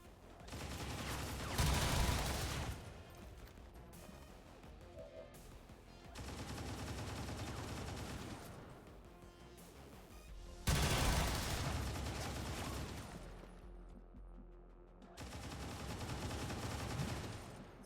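Gunfire in the video game XCOM 2 Long War of the Chosen, loud bursts of repeated shots in several long volleys separated by quieter stretches.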